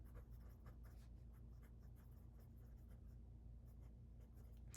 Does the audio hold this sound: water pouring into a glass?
no